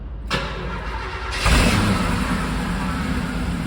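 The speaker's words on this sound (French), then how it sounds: "quand on démarre la voiture, ça fait quelques semaines qu'elle n'a pas roulé" A 1975 Mercedes 450 SEL 6.9, left unused for a few weeks, cranks briefly and then fires up with a loud burst, settling into a steady, rumbling idle close by.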